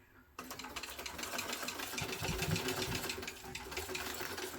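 A sewing machine bastes fabric for a backpack, starting up after a brief quiet moment and then running in a steady, dense, close whir for the rest of the clip without speech.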